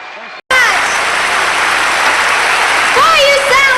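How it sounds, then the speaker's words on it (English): Live concert audience at a country music show bursts into loud applause right after a brief quiet moment, steady dense clapping with cheers and whistles rising near the end. "Boy, you sound like a partying crowd to me."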